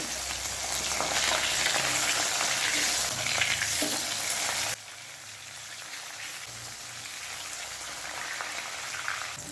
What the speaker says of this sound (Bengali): মাছের এক পিঠ ভাজা হয়ে গেছে এবার উল্টে দেবো